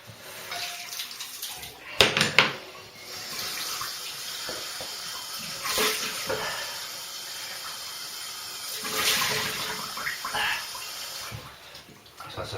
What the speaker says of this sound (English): So just rinse it off.